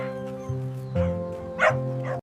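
A dog yips and barks in short bursts with whimpering, whiny tones between them, fairly close and moderately loud.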